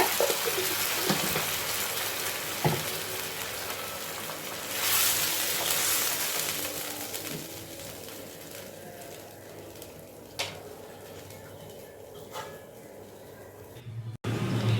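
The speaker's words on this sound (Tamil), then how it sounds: "தண்ணி ஊற்றி வேக வைக்கிறேங்க" Water runs and splashes steadily into a cooking pot for semiya chicken biryani for several seconds, then tapers off into quieter kitchen clatter with a few sharp knocks near the end.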